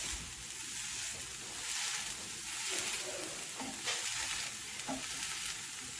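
Homemade hash browns sizzle in a hot pan, a steady hissing fry with soft scraping and pressing sounds from a spatula, moderately quiet and without talk.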